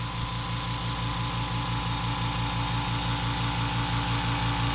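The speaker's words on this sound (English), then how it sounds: "Alright, this is the sound the Fortress makes." A Fortress ultra-quiet air compressor runs with a steady, close motor hum and an even, fast pulsing rhythm, continuous and unchanging, with no talking.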